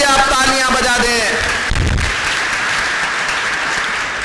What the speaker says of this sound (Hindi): उनके लिए भी आप तालियां बजा दें।